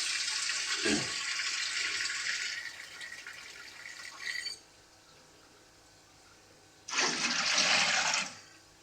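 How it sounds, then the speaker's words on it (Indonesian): Water poured into a steamer pot, a loud rushing pour that tapers off, a short silence, then a second strong burst of running water close by. "Kita tambah air karena tadi sudah dipakai untuk mengukus."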